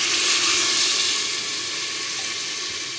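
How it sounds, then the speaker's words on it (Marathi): Water poured into a pot of sautéed khichdi ingredients on a traditional wood-fired village stove, a steady broad rushing splash with faint sizzle, continuous and fairly loud throughout, no voices. "आता मी पाणी टाकून घेते।"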